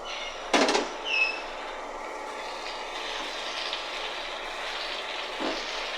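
A medium tomato and two or three chopped green chillies drop into a hot pan, giving a loud hiss on contact that settles into a steady, moderate sizzle, with a second brief burst near the end.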